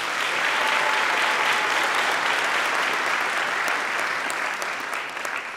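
Steady, dense applause from a large audience at a university Christmas concert, loud and sustained throughout, easing slightly near the end.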